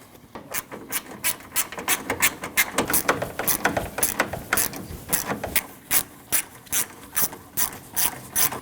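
A ratchet tightens the 10mm hood latch bolts on a 2012-2016 Honda CR-V, giving quick, regular bursts of sharp clicking, close and clear, with brief pauses between strokes.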